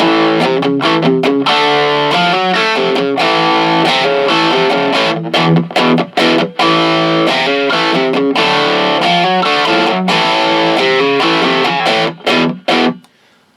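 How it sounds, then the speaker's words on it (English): An electric guitar with a humbucker, played through an overdrive pedal, plays a distorted, overdriven riff with choppy rhythmic chords and short stops, loud and close, ending abruptly. "you're getting all of that distortion that you want, that overdrive"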